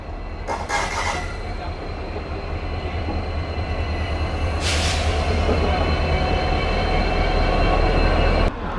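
An express train runs between Siliguri and NJP, its steady rolling rumble and wheel noise building gradually, with brief screeching bursts and a faint voice now and then.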